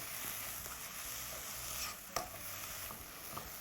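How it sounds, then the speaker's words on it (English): Spinach and coconut ravioli filling sautéing in a pan, a steady close sizzle with soft stirring scrapes and a sharp clink near the middle, no talking. "So I prefer to always saute in small batches."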